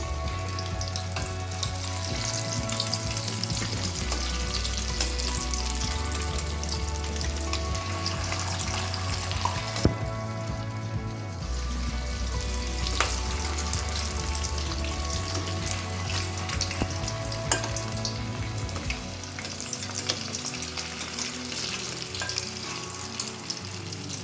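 Green gram sweet dumplings (suzhiyam) fry in oil over low heat, giving a steady, close sizzle that runs unbroken throughout with no talking.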